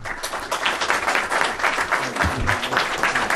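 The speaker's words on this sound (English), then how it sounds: "giving a round of applause for the panel." Audience applause for a panel at the close of a policy discussion on Afghanistan, a full, sustained round of many hands clapping with slight fluctuations in intensity.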